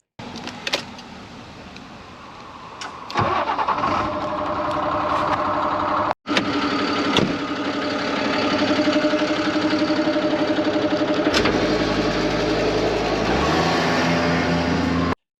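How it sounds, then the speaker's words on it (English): A vacuum truck's engine starts up and settles into a steady running drone as its vacuum pump is switched on, with a brief click and a deeper low hum joining near the end, loud and close. "I'm now going to start the truck up and put the vacuum on"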